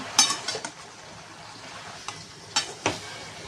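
Roasted eggplant bharit being sautéed in a pan: a soft, low sizzle runs underneath while a spatula scrapes and clinks against the pan in a few sharp, separate knocks near the start and again near the end.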